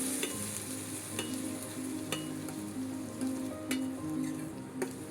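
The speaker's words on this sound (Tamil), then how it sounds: "சேர்த்து அந்த தக்காளியுமே நல்லா மசிஞ்சு வர அளவுக்கு வதக்கிக்கணும்." Tomatoes sautéing in a pan for egg curry, a steady soft sizzle with occasional clinks of a spoon stirring against the pan, no talking.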